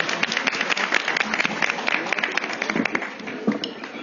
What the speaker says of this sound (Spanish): Vamos a darle un fuerte aplauso a nuestro Dios, hermanos